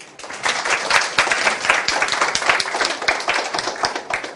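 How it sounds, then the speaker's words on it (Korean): Students in a university design class clap for a classmate called to the front, a dense, steady patter of many hands lasting the whole stretch, fairly close and even. "박수 한번 쳐주세요"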